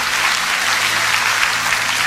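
A church congregation claps loudly and steadily for Jesus, a dense, even wash of many hands lasting a couple of seconds with no voices over it.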